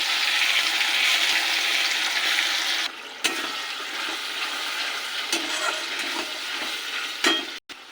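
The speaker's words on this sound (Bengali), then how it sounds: "পেঁয়াজটাকে ব্রাউন করে ভেজে নিয়েছি। এবার দিয়ে দেবো বাটা মশলা।" Ground spice paste hits browned onions in hot oil in a pan, producing a loud, continuous hissing sizzle that briefly drops out, then carries on with a few sharp clatters of a utensil.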